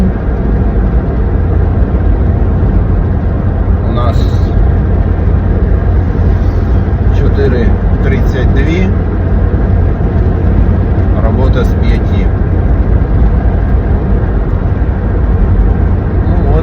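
A car driving along a road, heard from inside as a loud, steady engine and road rumble that fills the whole stretch, with a few brief rattles.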